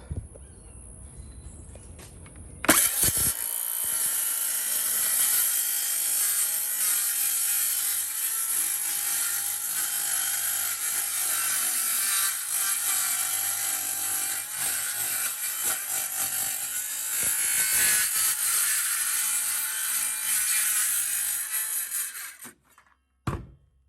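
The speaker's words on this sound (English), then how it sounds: "And then I can cut my plywood." A power saw cuts through plywood in one long, loud, continuous run, starting abruptly, holding a steady whine for about twenty seconds, then winding down to stop.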